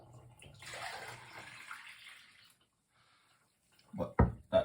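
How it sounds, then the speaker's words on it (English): A smoothie pours into a glass in a soft, continuous gush for about two seconds, then falls quiet before a few sharp knocks of glass near the end. "I'm gonna just pour it into my other glass."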